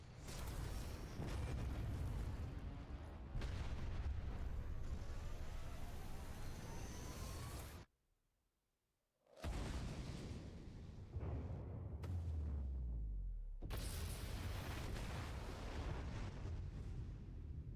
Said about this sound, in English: Oh, that's a laser cannon shot.